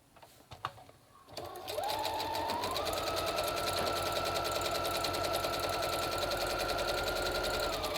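A sewing machine runs steadily, stitching paper book page pockets in a crafting session; after a few faint handling clicks it whirs continuously and loudly, close by, with no talking.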